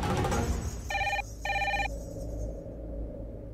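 A telephone rings with two electronic ring bursts in quick succession after a number is dialed, loud over a low room hum with no talk.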